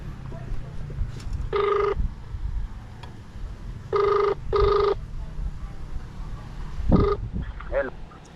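Outgoing ringback tone while phoning a customer for a Lalamove delivery, four short electronic bursts in two spaced pairs, fairly loud over road and vehicle noise, with a brief voice near the end.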